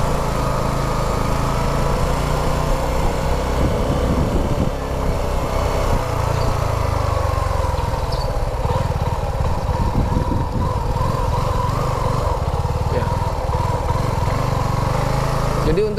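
A Suzuki V-Strom 250 motorcycle is ridden on a test ride in Indonesia. Its engine drones continuously and loudly under rushing wind for the whole stretch, with only slight shifts in pitch.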